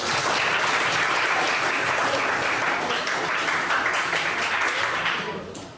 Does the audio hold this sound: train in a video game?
no